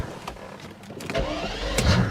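A 500HP Mercedes SL600 V12 revs and launches: a brief close burst, then a rising, swelling engine roar building louder toward the end, with no talk.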